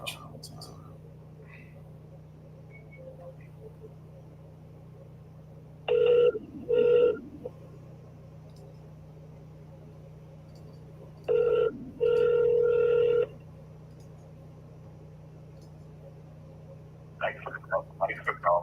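An outgoing telephone call dials and then rings, with repeated bursts of ringback tone spaced several seconds apart over a quiet line hum.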